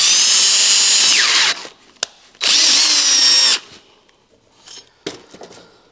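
A power drill drives a tap bit cutting threads, giving two loud, close whining runs of about a second each with the motor pitch sagging under load, separated by short clicks and handling noises.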